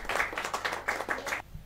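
A short burst of audience clapping at a Hindi poetry gathering welcomes the new honorary director: a few seconds of quick, fairly close hand claps that stop abruptly.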